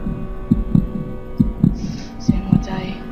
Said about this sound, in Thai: นี่คือเสียงหัวใจกูใช่ไหม